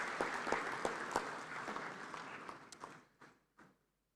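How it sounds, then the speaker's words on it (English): A conference hall audience applauds for Ghana's Second Deputy Speaker at an inter-parliamentary gathering. The clapping is moderate and fairly near, then thins out to a few last claps and stops. "another round of applause, please"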